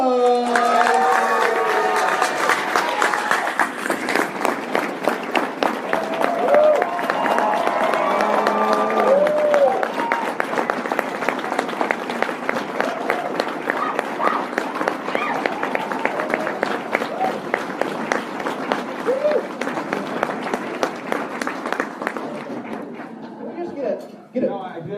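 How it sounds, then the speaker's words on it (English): Convention audience cheering and applauding as actor Kevin Sorbo is introduced on stage, a loud sustained roar of clapping and shouts with an announcer's voice over it at first, fading out near the end. "we're going to need lots of cheering, lots of applause."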